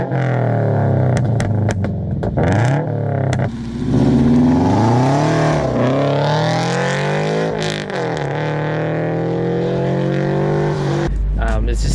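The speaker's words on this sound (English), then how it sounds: "The perfect Subaru rumble in my opinion." A Subaru FRS with a Borla unequal-length header exhaust rumbles loudly up close, revving up and down in several rising and falling sweeps, with a sharp cutoff near the end.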